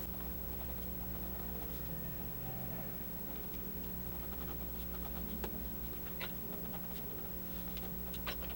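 Light pencil strokes on paper while sketching a dog's eye in a pet portrait, a soft, faint scratchy patter of short irregular strokes continuing steadily throughout, close and quiet with no voices.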